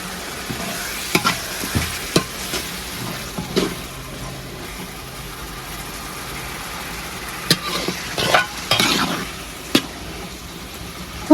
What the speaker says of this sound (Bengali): গাজরও হালকা ভেজে নেব। দিয়ে দিব টমেটো আর কাঁচামরিচ কুচি।